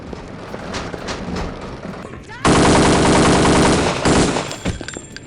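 Gunfire in the shooter Kingpin: Life of Crime: scattered shots under game noise, then from about 2.4 seconds a loud, dense burst of continuous automatic fire lasting nearly two seconds before it tapers into a few trailing shots.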